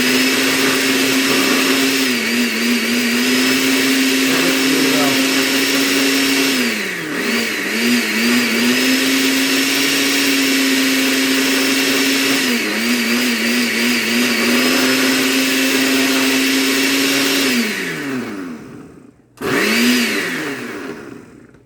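Kitchen blender frothing coffee with milk, a loud steady motor whine that dips in pitch and recovers as the load shifts, stops briefly near the end, then starts again.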